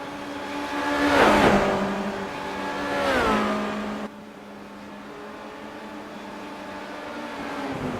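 Simulated race car engines in iRacing at Silverstone, a loud engine note rising and sweeping past twice in quick succession, with strong harmonic whine, then settling into a steadier, quieter drone of cars running on.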